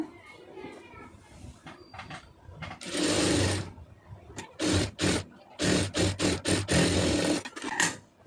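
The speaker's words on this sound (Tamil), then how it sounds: "அதை அப்படியே திருப்பி ஒரு படிமான தையல் போட்டுருங்க" A sewing machine stitches a puff sleeve in short loud whirring bursts, one long run then several quick stop-start runs, after a stretch of talking and soft background voices.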